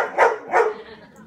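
Two black Labradors give two short, close barks in quick succession, each about a third of a second apart, with no talking over them.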